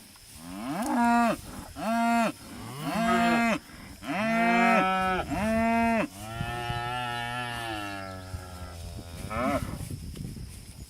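Cattle moved into a freshly set-up farm paddock moo loudly in a run of long calls, one after another, some overlapping, with steady outdoor background.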